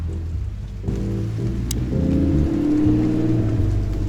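Steady rain falls in the Chicken Police video game, a dense even hiss that grows a little fuller partway through. A low rumble sits beneath it, and no voices are heard.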